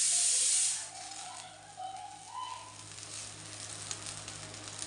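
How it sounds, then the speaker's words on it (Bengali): Cooked rice fries in a wok for fried rice, giving off a loud hiss at first that settles into a softer, continuous sizzle with faint scraping underneath. "তো বন্ধুরা ভাতটা আমি ভেজে নিচ্ছি ফ্রাইড রাইসের জন্য।"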